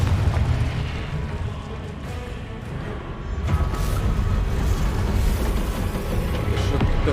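A Confringo explosion spell goes off in Hogwarts Legacy as a loud, rumbling game blast, building into a sustained booming roar that fills the space.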